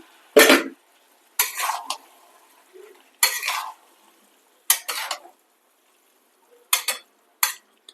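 Cauliflower and capsicum frying in a pan while being stirred with a utensil for a home-style Tamil lunch-box dish; short scraping bursts of utensil on pan come in irregular clusters over a quiet background, with no one speaking.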